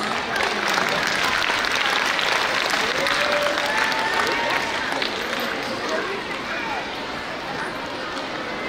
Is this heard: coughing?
no